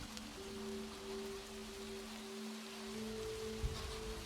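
Soft, steady rain falls on a New York City street at night, a quiet, even hiss with a faint low hum beneath it and a single muffled thump near the end.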